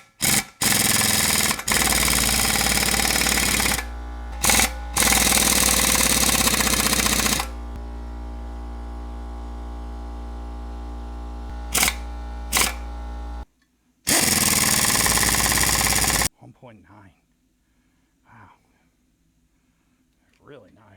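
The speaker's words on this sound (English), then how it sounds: "So let's plug in the air compressor." An air compressor and an air-powered tool expanding a muffler pipe make loud bursts of harsh rattling and hissing, broken by short pauses and several abrupt stops, ending with quieter clanks.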